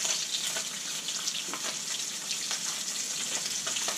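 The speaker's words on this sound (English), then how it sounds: "it is a great pan for frying silver perch in" Silver perch fry in a pan with a bright, dense, steady sizzle that holds close and loud throughout, with faint crackles scattered across it.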